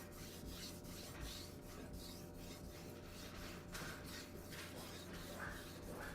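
A knife blade being sharpened freehand on a 2000 grit stone, giving repeated soft rasping strokes in a steady back-and-forth rhythm, close and quiet, with no talking.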